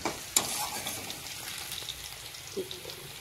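Bitter gourd frying in oil, a soft steady sizzle with a sharp clink near the start and faint stirring taps, fairly quiet and without talk.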